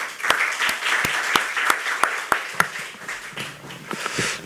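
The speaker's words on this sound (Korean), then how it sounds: "고 교수님을 큰 박수로 맞이해 주십시오" An audience at a hospital medical lecture on COVID-19 welcomes a professor with applause: a short burst of sparse, rhythmic clapping from a modest crowd, fairly close and steady.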